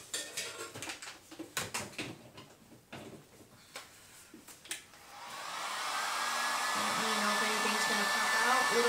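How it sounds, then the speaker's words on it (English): A few seconds of light clattering and handling come first, then a heat gun switches on and blows a steady, loud rushing whoosh over an acrylic triple flip cup fluid pour painting. "actually I'm gonna get my heat gun."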